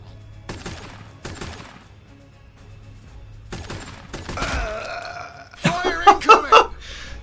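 Gunfire in Warhammer 40k Sanctus Reach comes as scattered sharp bursts, first sparse and separated by quiet gaps, then a denser rattling volley toward the end, with some voice mixed in.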